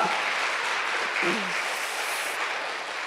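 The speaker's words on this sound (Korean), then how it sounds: "자, 격려 박수 한번 드리겠습니다." A church congregation at a Sunday afternoon service applauds in a dense, continuous wash of clapping from start to finish, with a brief voice heard underneath.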